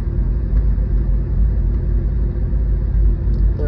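A 1977 Chevrolet Scottsdale truck engine labors up a steep climb in first gear, a loud, steady, low rumble that holds throughout at close range.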